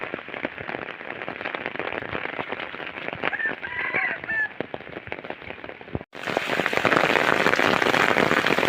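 Steady heavy rain hisses across the whole clip at a village brick kiln, swelling into a louder, denser downpour partway through; faint cattle calls sound briefly in the middle.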